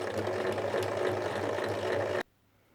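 A sewing machine stitches around a fabric bib, a fast, steady mechanical whirr with a regular rhythm, close and alone, stopping abruptly near the end.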